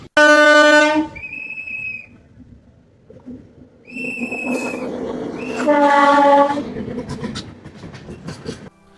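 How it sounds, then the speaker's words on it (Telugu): The Vizag-to-Araku train rumbles past close by at a railway crossing, its horn blaring in several loud blasts over the clatter of wheels and cars rolling along the track. "వైజాగ్ నుంచి అరకు వెళ్ళే ట్రైన్ వచ్చింది, మీరు చూడండి"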